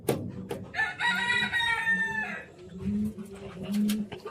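A chicken crows once, a long loud cock-a-doodle-doo up close, followed by lower clucking calls from fowl nearby.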